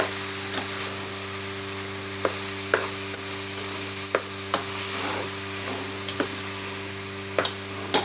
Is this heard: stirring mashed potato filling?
yes